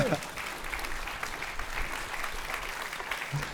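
Audience applause at the Bobards d'Or 2021 media awards ceremony, a steady dense patter of many hands clapping at moderate level throughout, with a brief voice near the start.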